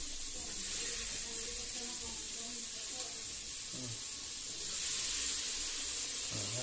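Ginger sizzles and spatters in hot oil as a steady, loud hiss that fills the whole stretch, with a louder surge near the end and faint background voices underneath.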